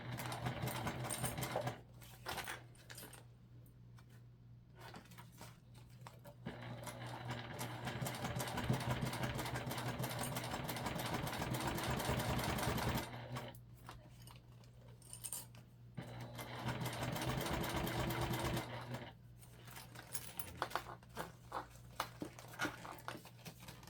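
A home sewing machine stitches white binding with white thread onto a fabric travel pouch, running in steady, close whirring bursts broken by short pauses as the work is eased around corners.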